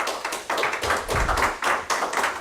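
An audience at a school board meeting claps in a brief burst of uneven applause, close and fairly loud, lasting a couple of seconds.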